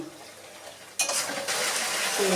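Vegetables being stir-fried in a pan: near silence at first, then a sudden scrape and sizzle as they are tossed, swelling into a steady frying hiss.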